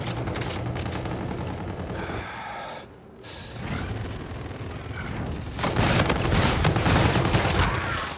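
Rapid pistol gunfire from the Hailstorm in a shooter video game crackles in dense bursts, briefly pausing before a louder, sustained volley near the end.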